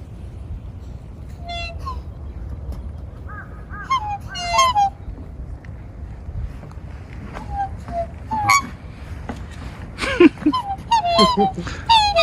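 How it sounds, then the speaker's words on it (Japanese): Black swans give scattered honks and bugling calls, some near and some farther off, over a low rumble while people talk throughout. "黒鳥だ、黒鳥。 黒鳥だね。"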